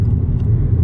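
A 2019 Honda Civic Sport with a muffler delete gives a brief, loud, close engine rumble with a throbbing low drone.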